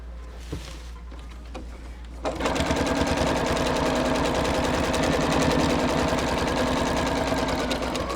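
A sewing machine stitches along a tablecloth being made into a long baby wrap, starting after a couple of seconds of quieter handling and then running as a steady, close, fast mechanical whir with no talk.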